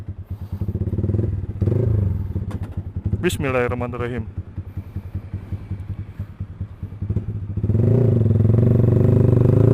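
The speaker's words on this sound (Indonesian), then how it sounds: "jadi ini knalpot X1 Speed tipe Pro One ya" A motorcycle with an X1 Speed Pro One aftermarket exhaust and 32 mm header on a stock engine rumbles close by, idling and pulling away with rising revs and a throbbing pulse, while someone speaks briefly over it.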